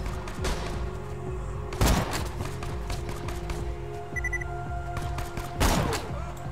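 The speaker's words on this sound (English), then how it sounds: "This is what I love about sniper rifles." Two heavy sniper rifle shots from the video game Borderlands 2 ring out a few seconds apart, each a loud sharp blast over a low running game soundscape.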